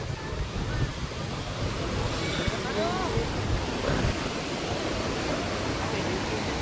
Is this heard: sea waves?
yes